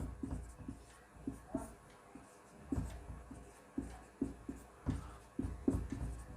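Chalk or marker taps and scrapes against a board during a lecture, coming as short, irregular strokes spread over several seconds, fairly close and with no talking.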